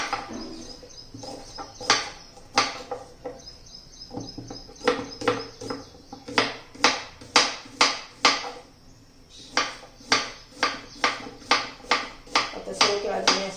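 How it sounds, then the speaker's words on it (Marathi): A knife taps sharply and repeatedly against a cutting board, chopping raw banana into small pieces, uneven at first and then settling into a quick steady rhythm, with brief pauses. "याचे ना तुकडे करून घ्यायचे छोटे छोटे पीस करायचे आहेत"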